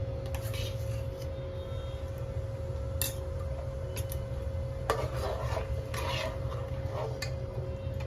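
Onion-coconut paste goes into a pot of crab curry and is stirred, with a spoon clinking and scraping against the metal pot over a steady hum, someone talking throughout.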